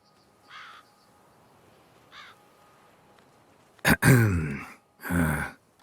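Crows caw in The Witcher 3: a couple of faint distant calls, then a loud, harsh close burst of cawing followed by one more strong caw, with no talking.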